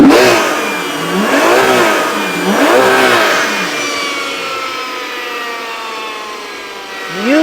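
Ferrari Purosangue's 6.5-liter V12 revved hard in several sharp blips, each climbing and falling, then a long fading decay and one more rev at the end, loud and close.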